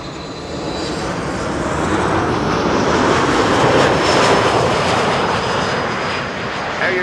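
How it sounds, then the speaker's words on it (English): An Air Europa Boeing 737 Max 8 arriving from Madrid lands on Schiphol's Kaagbaan runway, a loud broadband jet engine roar swelling to a peak midway and then easing, constant with no pauses. "Air Europa Max 8737, flight 1091, arriving from Madrid"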